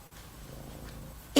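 A cat's low, steady purring rumble close up, continuous for about a second before a sudden loud burst cuts in at the end.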